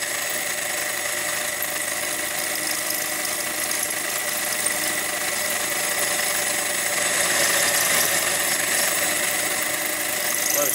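A drill bores through a bracket spacer for a Honda Silverwing scooter mount, giving a steady, loud mechanical whir with a slight rise in intensity near the end, with no talking.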